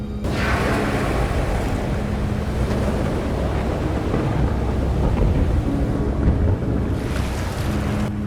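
Ocean waves surge in a continuous, loud roar of churning sea water, with a low, rumbling, wind-like wash that swells and eases slightly but never stops.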